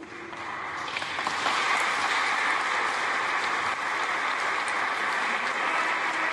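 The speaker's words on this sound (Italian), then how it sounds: "L'applauso alle parole di Giovanni Nuti" Audience in St Mark's, Venice, applauding Giovanni Nuti after his tribute to Carla Fracci, swelling from a thin start into a steady, fairly distant wash of clapping that carries on to the end.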